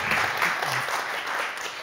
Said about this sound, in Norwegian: Du skal få en applaus på veien inn